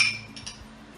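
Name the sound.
teaspoon clinking while adding salt to toothpaste mixture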